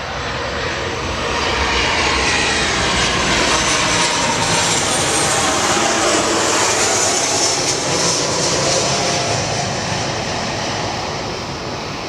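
A Qantas Boeing 737 jet roars on takeoff from Gold Coast Airport, a broad steady engine rumble that swells and holds loud throughout before easing slightly at the end.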